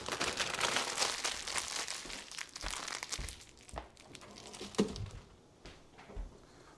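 A plastic bag of dry pasta is stabbed open and emptied into a pot, giving close crinkling of the plastic and a rattling, pattering spill of pasta over several seconds, fading toward the end.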